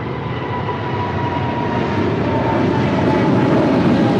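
A Boeing 777 rolls down runway 25 left at Los Angeles International Airport, a steady loud jet engine rumble and roar that swells slightly toward the end.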